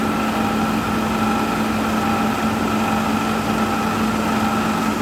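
A running LG 10,000 BTU window air conditioner gives a steady, loud whirring hum with a constant tonal drone, holding unbroken and unchanged throughout with no talk over it.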